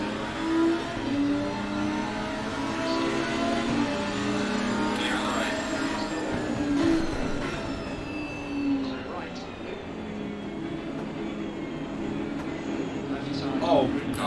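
A Lamborghini race start in the Assetto Corsa racing game at Misano: engine revs climb and fall through gear changes over a dense field of other cars, with excited talking over the top.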